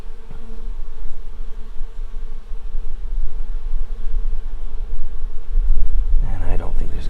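Honey bees drone around an open hive during a warm-weather inspection, a low continuous buzz close by, with a brief clatter of handling near the end.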